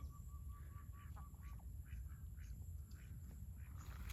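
Faint duck quacks, several short calls spaced unevenly, heard distantly over a steady outdoor hum and background noise beside rice fields.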